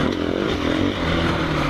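A KTM 500 EXC-F dirt bike engine revs steadily and close by while riding a trail, a loud continuous buzzing drone with slight dips as the throttle eases.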